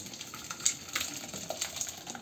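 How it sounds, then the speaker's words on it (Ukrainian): Tomato sauce made with tomato paste, being poured from one vessel into a saucepan for lasagna: a soft, continuous liquid pour with faint splashing and clinks, quiet and close. "Ми цей соус переливаємо у каструльку."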